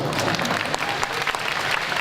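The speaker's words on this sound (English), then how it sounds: "Tom can get a round of applause" Steady applause from a crowd at an inauguration ceremony, dense clapping filling the room without a break.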